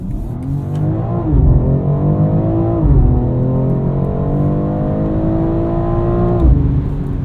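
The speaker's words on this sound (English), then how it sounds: "These Michelin tires make a lot of noise." A 2022 BMW X3 M Competition on Michelin tires accelerates through several gears, its engine note climbing and dropping at each shift over a constant loud road and tire roar inside the cabin.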